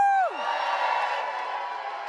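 A live audience at a food and wine event cheers and whoops after a sharp opening whistle-like cry, then keeps up a sustained, fairly loud crowd roar.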